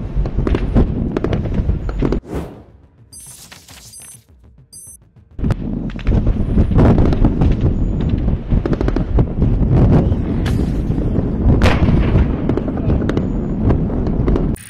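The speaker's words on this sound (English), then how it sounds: "A Russian tank raided Ukrainian trenches and opened fire at close range." A tank firing at close range on trenches, loud booming blasts and crackling bursts of gunfire with buffeting wind noise, a short quieter lull, then heavy firing again.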